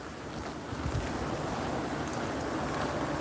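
Gusty wind in a windy part of Australia buffets the microphone with a constant, loud, broadband roar, steady for the whole stretch with no talking.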